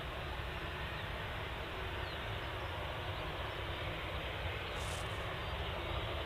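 A Jet2 Boeing 737-800 airliner, lined up on the runway before departure to Malta, gives off a steady, broad, distant engine roar that holds constant throughout.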